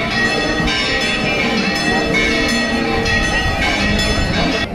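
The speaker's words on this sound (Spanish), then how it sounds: "las campanas suenan" Church bells ring in Santiago de Compostela, loud overlapping metallic tones sustained throughout, with struck peals recurring every second or so and a rich ringing resonance.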